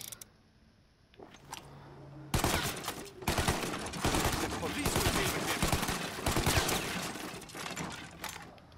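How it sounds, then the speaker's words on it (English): Rapid bursts of gunfire in Mafia: The Definitive Edition, shooting at crates, loud and sustained after a quiet start with a few mechanical clicks. "You need guns to destroy some crates."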